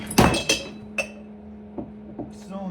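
Small metal cylinders from a Homelite Super Mini chainsaw engine fall and clink against a hard surface in a few sharp, close hits. The first hits are loud and the later taps fainter.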